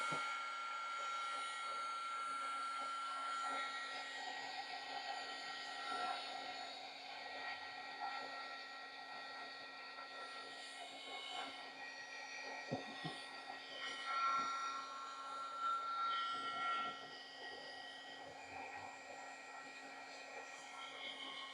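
A hair dryer blows continuously on an urban sketch of walking figures, a steady, fairly quiet whirring drone with a faint tonal whine.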